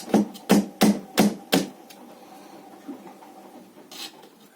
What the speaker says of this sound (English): You take the hammer and you're going to actually give it a little knock here